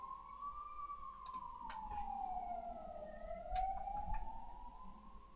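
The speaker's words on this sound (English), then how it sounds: "Ambulance." A distant ambulance siren wailing in a slow rising and falling sweep, heard faintly from outside beneath soft room noise and a few light clicks.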